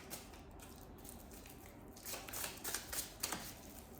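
Tarot card deck shuffled by hand: soft riffling and flicking bursts, quiet and close, growing busier in the second half with a few sharper snaps, no voices.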